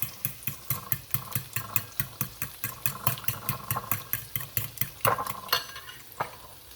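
Eggs scrambled with spinach cook in a pan, giving a steady run of rhythmic scraping stir strokes and a soft sizzle, close and fairly quiet with no talk.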